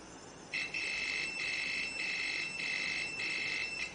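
Intermittent high-pitched electronic beeping from a continuity tester checking the red wire of a Khind ARF-3000 air fryer's thermal fuse, five or six steady tones broken by short gaps, clear over faint background hiss.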